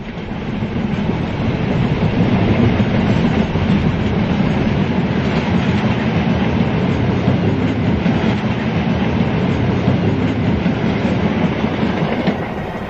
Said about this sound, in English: a Class 57 with its freight load in tow rumbles past